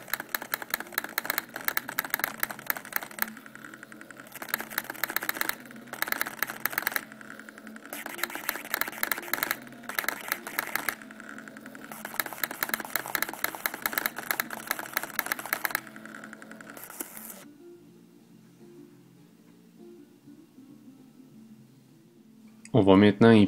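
TRS-80 PC-2 pocket computer's printer plotter printing, a loud mechanical buzzing and rattling in repeated bursts with short pauses for about seventeen seconds, then stopping to near quiet before a brief voice at the end.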